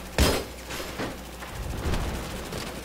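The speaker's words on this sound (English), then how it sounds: "It's just like a full out automatic gun." Automatic weapon fire in Battlefield 3, heard as a sharp opening shot followed by scattered bursts of gunfire, moderately loud against a steady background din.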